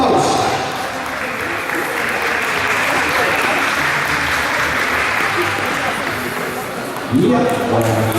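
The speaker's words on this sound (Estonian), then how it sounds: "Saabajas, aplaus!" Audience at a dance competition final applauds the competitors in a long, steady burst of clapping that fills the hall, with a voice over the PA cutting in near the end.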